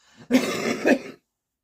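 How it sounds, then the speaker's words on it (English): A single short cough from a man, close and dry, with a faint throat sound just before it and silence afterward. "Excuse me, I was just having a cough there."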